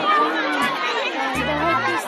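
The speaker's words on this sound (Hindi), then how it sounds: "सारा भीड़ है, मुक्की वाला भीड़ है" A dense crowd at a bathing ghat on the Ganges during Guru Purnima fills the air with loud, close, overlapping chatter, many voices talking at once.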